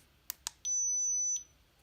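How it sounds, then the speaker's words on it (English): Electronic beep from a My Pet Command MPCGPS4 GPS dog collar remote trainer: two quick clicks followed by a single sustained, piercing high tone lasting under a second, loud and close against a quiet background. "So I'm going to just change the beep level,"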